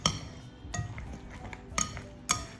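Vietnamese spring roll filling being mixed in a bowl, with utensils clinking against the bowl in a few sharp, irregular taps over soft, wet stirring, close and fairly quiet.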